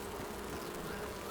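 Bees buzzing in the video game Enshrouded, a steady, dense insect drone that fills the short moment evenly without pause.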